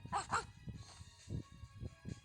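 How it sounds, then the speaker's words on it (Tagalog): A pet dog barks in a yard on a cold day: two quick sharp barks up front, followed by softer scattered yips and huffs, fairly close and moderately loud, no speech. "Ayun yung aso ko"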